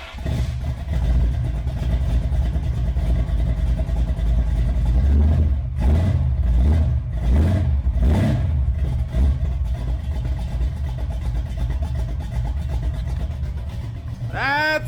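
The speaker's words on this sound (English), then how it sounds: "we have to start the car so you can hear it without the modification" A 1966 Chevelle's engine without exhaust cutouts, a deep loud rumble throughout with several sharp rev blips in the middle and a brief higher whine near the end, with voices partly over it.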